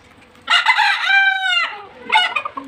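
A rooster crows once loudly and close by, a long strained call with a rising and falling tone, followed by a shorter second burst from a nearby bird, with no talk.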